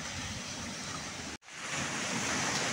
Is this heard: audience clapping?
no